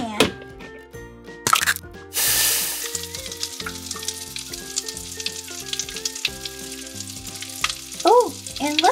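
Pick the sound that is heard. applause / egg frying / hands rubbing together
egg frying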